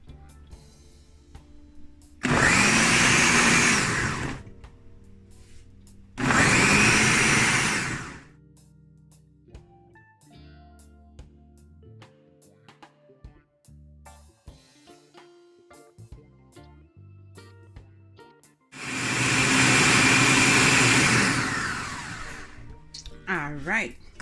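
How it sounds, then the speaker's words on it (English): A kitchen blender whirs through a fruit smoothie with crushed ice in three loud motor bursts of a couple of seconds each, separated by quieter stretches of clinking and handling noise. "we're gonna blend smoothie"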